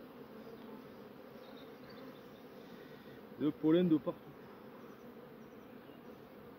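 Honeybees hum in a steady, moderately close drone around a pollen-laden hive frame being handled outdoors, with someone speaking briefly in the middle under the buzz.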